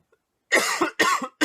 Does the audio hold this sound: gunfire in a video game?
no